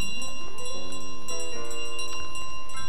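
Ringing bell from Untitled Goose Game sounds over light piano music, a steady metallic tone sustained throughout with soft repeated chiming accents.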